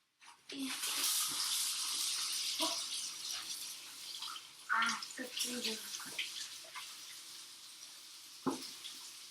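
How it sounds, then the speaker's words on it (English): Hands being washed under a running kitchen tap, a steady rush of water with splashes and rubbing, close and continuous. "let's wash hands"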